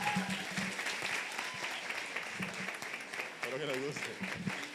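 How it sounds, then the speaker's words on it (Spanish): Audience applause at the final of a law moot competition, a sustained steady roar of many hands clapping, with brief voices and murmurs poking through near the end. "Así que un fuerte aplauso, por favor."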